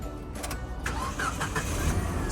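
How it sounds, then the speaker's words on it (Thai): A 2012 Mitsubishi Triton 2.4 pickup engine turns over and catches, running with a steady low rumble close by, with faint clicks and mechanical noise at the start. "ขอฟังเสียงเครื่องยนต์นิดนึง"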